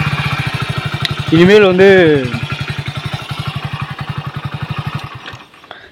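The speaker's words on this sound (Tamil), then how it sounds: "இப்போ தான் செல்ஃப் ஸ்டார்ட் போடுறேன்." A Hero Splendor Plus BS6 motorcycle engine idles close by with a steady, even putter that briefly revs up and then settles, while someone talks over it throughout.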